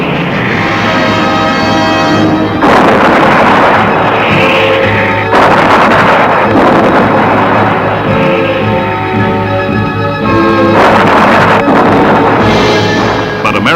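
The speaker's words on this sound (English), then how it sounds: "American artillery went into action to back up the breakthrough" American artillery firing during a WWII breakthrough of the Siegfried Line, heavy booming blasts roughly every few seconds, loud with rumbling tails, no voices.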